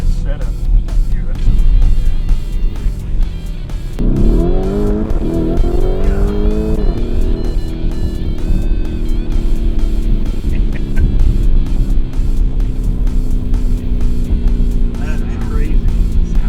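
A 2019 Lamborghini Urus engine rumbles and revs while driving, with a rising acceleration whine midway settling into a steady cabin drone, under people talking throughout.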